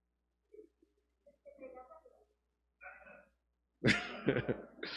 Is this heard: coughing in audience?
yes